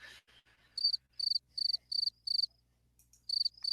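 Crickets chirp in quick trilled bursts, about eight evenly spaced pulses repeating steadily against a quiet background, clear and fairly close.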